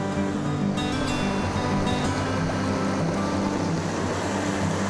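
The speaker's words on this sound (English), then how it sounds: "Here's Abrams Creek" Steady broadband rush of Abrams Creek, a stream in the Smoky Mountains above Abrams Falls, flowing continuously and fairly close with an even, unbroken wash and no voices.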